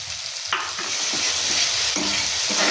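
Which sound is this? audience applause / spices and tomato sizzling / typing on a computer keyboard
spices and tomato sizzling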